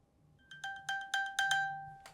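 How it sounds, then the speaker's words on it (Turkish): An iPhone 13 Pro plays its Find My alert: a series of bright, ringing electronic chimes that repeat in quick bursts and grow louder, with the final tones trailing off. No speech over it. "Yakında iPhone 13 Pro'nda şimdi ses çalıyorum."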